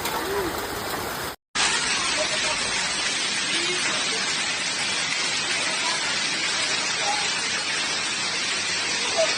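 Hailstorm pounding down in Jinghong, Yunnan, a dense, loud, steady roar of falling ice and rain that continues without letup after a brief cut near the start.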